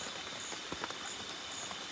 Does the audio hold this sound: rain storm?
yes